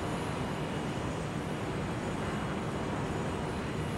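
An airplane in the video game Modern Warfare 2 produces a steady, even engine drone with a constant broadband roar and no break throughout.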